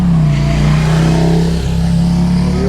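Cars on a coastal road along the Amalfi Coast in Italy drive up close behind a touring cyclist, their engines a loud, steady drone that shifts pitch as they accelerate and pass nearby.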